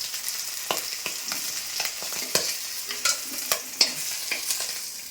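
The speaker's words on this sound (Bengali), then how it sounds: "মাছ ভাজা হয়ে গেছে" Fish fries in hot oil with a constant crackling sizzle, punctuated by repeated sharp spatters and utensil clicks close by.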